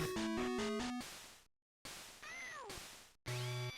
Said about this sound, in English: All of her screams just sound like a cat's tail being stepped on.